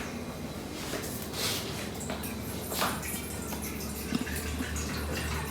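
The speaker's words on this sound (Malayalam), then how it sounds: "2 കപ്പ് നമുക്ക് ഇതിൽ വെള്ളം ഒഴിക്കാം" Water poured into a cooking pot while making soup, a steady liquid splash and trickle at moderate level throughout, with some kitchen background noise.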